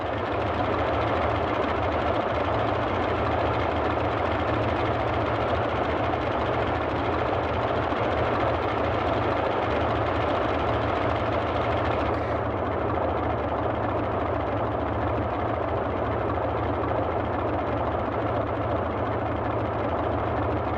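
A Boeing 247D's piston engines drone steadily and loudly in a flight simulator without pause, a dense rumbling hum with no voices, its tone shifting slightly partway through.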